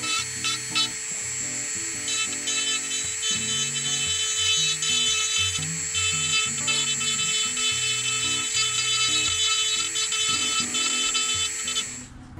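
A rotary carving tool with a slightly larger bit cleans up the nostril area of a wooden brown trout carving, giving a high, steady whine that dips and rises as the bit meets the wood, continuous and close.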